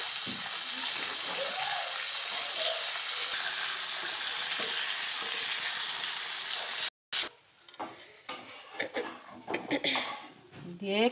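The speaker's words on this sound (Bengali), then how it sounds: "দেখুন বন্ধুরা মাছগুলো কেমন ভাজা হয়ে যাচ্ছে" Pomfret fish frying in a village kitchen pan give a loud, continuous sizzle for about seven seconds. After a brief cut, spatters and scraping follow with someone talking over them.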